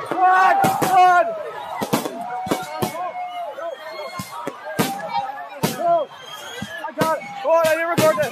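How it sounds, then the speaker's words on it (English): Fireworks going off badly near people, a string of sharp cracks and pops spread through the clip under excited shouting voices. "Oh! Hey, it's exploding!"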